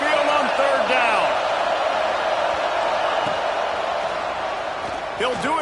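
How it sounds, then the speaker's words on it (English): A roaring stadium crowd at Saban Field during a college football game, the Alabama Crimson Tide fans sustaining a loud, dense wall of noise on third down, with a commentator's voice over it. "The Tide crowd rolling noise down onto Saban Field on 3rd down."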